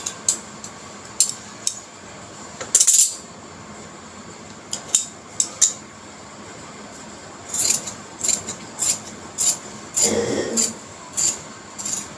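Scissors snip and rasp through shalwar fabric on a home sewing table, a string of short, close cutting strokes and rustles separated by brief pauses.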